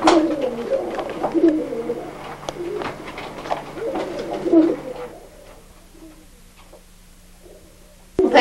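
German Owl pigeons coo in soft, repeated low calls that fade to quiet near the end, with some voice faintly present.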